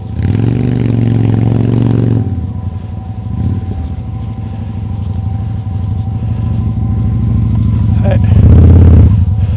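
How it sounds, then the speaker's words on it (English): A motorcycle engine rumbles close by, swelling louder as it passes near the end, while a person talks over the noise. "Or that motorbike is not ruining everything for everybody."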